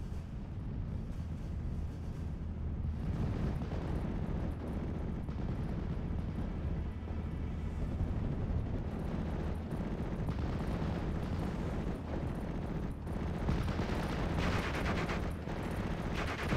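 Autocannon fire and explosions in the Steel Division 44 World War II strategy game form a dense, continuous rumble of distant shots and blasts, moderately quiet and unbroken throughout.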